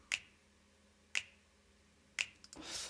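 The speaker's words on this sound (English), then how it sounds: "One is from the Unison pack from Jaden Lewis, just a very simple snap" Three crisp finger snaps from the Unison sample pack by Jaden Lewis, evenly spaced about a second apart, dry and close, with a brief burst of noise after the third.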